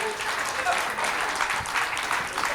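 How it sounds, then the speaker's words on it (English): Live audience applause at a comedy show, a steady wash of many hands clapping throughout, moderately loud and continuous, with a faint voice mixed underneath. "There's some claps."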